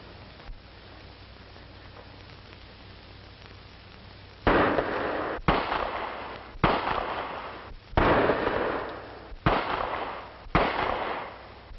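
Six sharp pistol shots from a cut-out-hammer, hair-trigger handgun at target practice in a 1940 crime drama, fired loud and close at roughly one-second intervals after a few seconds of quiet hiss.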